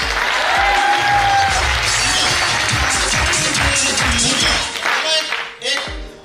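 Loud, dense audience clapping at a business training speech, continuing steadily before thinning out near the end, with a voice speaking over it.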